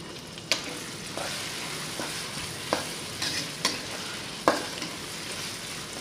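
Chicken curry fries in a pan with coriander leaves and green chili while a spoon scrapes through it in a few sharp, irregular strokes over a steady low sizzle.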